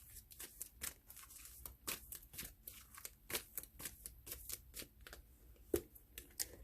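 Cards drawn one after another from a deck in a quiet room, a quick run of soft papery flicks and slides with brief rustles, close and faint, with no voice over them.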